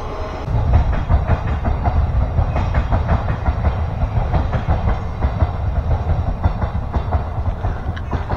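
Train rolling past near Finsbury Park station in London in the evening, a steady rumble with rhythmic clickety-clack of wheels on rail joints, fairly close and continuous without speech.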